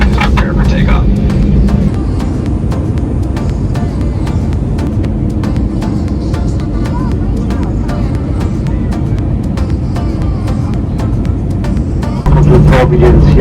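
Steady loud engine rumble of an airplane cabin as the aircraft prepares for takeoff, a continuous drone with a brief rise near the end.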